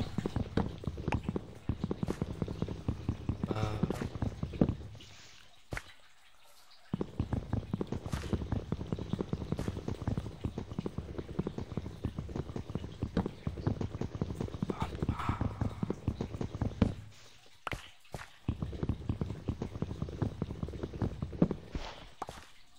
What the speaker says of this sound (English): What are you doing, horse? Just up on a tree?